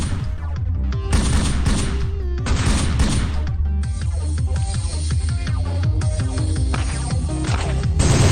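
Rapid cartoon gunfire sprays from a gun box machine, a loud continuous fusillade of dense repeating shots with brief bursts and crashes layered over background music throughout.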